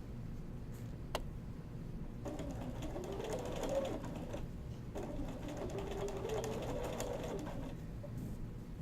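A domestic sewing machine edge stitches a men's shirt placket in a steady, close mechanical whir, with a brief pause partway and a few small clicks.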